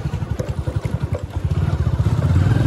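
A motorcycle engine while riding on a cold, windy road, with a steady, rapid putter of pulses that grows a little louder and fuller toward the end, close and alone.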